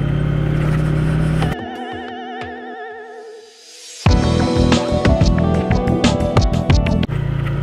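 A motorcycle ridden off-road over large potholes, its engine droning loudly with jolts and clatters as it bounces. The engine eases for a moment, then surges back with repeated thumps and rattles.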